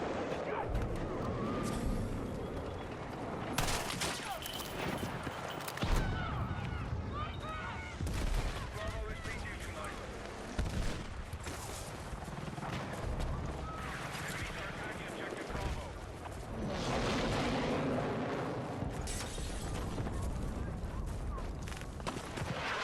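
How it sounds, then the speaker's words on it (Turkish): A tank explodes amid heavy gunfire in a Battlefield 6 Conquest match. Dense bursts of shots and booming blasts pile up continuously, loud and chaotic, with players talking underneath. "Tank patladı."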